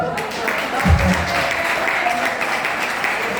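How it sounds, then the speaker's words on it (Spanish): A church congregation claps at a preacher's urging, a continuous wash of applause over a few seconds with a low thump near the start and a voice faintly present. "Dígame un aplauso al Señor, hermano."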